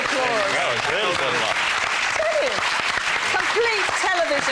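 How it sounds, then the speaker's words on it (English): A studio audience at a 2001 television game show bursts into applause, dense and sustained, with voices and cheers mixed through it. "Give them a good round of applause."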